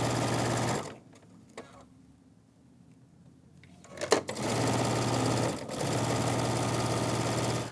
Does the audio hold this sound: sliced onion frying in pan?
no